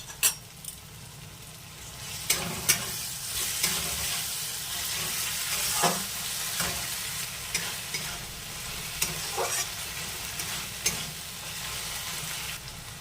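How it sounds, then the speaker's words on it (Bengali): Ginger and garlic paste sautéing in a pan for an egg and soya chunk curry, a steady sizzle with repeated scraping stirs of a spoon at irregular intervals, close and moderately loud. "আদা রসুন ভালোভাবে কষানো হয়ে গেছে।"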